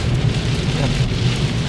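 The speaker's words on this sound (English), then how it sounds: "I don't know if you can see on the camera the wind and the rain" Wind and heavy rain beat steadily on the outside of a parked car during a road trip in Wales, a dense, continuous low roar and patter with no pauses and no voices.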